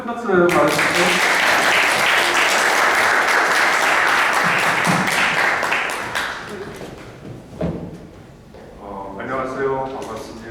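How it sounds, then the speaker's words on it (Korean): An audience at a lecture event claps loudly and steadily to welcome a guest speaker, the applause thinning out toward the end as a voice speaks over the fading claps. "큰 박수로 맞아주시고"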